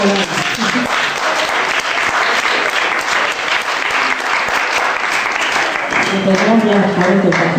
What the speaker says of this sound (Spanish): Gracias por esos famélicos aplausos.